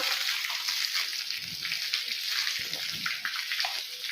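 A hose sprays water over Holstein and Simmental dairy cows to wet them before soaping in intense heat, a steady hissing rush with occasional splashes and some faint background sounds.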